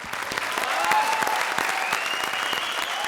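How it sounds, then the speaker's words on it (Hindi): Loud, steady applause from a comedy show audience (Comedy Circus) fills the moment, dense clapping close up with no talking. "जोरदार ताली।"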